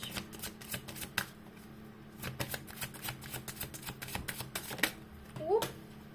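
Tarot cards are shuffled and drawn by hand, giving a series of quick papery flicks and slaps at irregular intervals, close and fairly quiet, with a soft voice briefly audible near the end.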